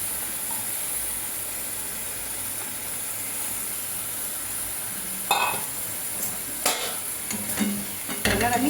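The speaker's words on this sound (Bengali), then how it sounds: "আমি এই ম্যারিনেট করা মাংসটা এবার এর মধ্যে দিয়ে দেবো।" Marinated chicken goes into a pan of frying onion gravy for chicken rezala, a steady low sizzle that swells into louder spluttering bursts and clattering as the meat lands and is stirred.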